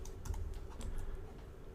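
Typing on a computer keyboard produces a quick run of light, evenly spaced key clicks at close range over a low steady background hum.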